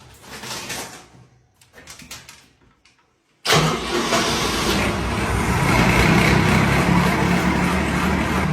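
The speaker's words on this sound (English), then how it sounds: "Now he's going to start the generator." Generator in a bomb shelter bunker cranks and fires up after a few quiet moments, then runs as a loud, steady, rumbling engine drone filling the enclosed space.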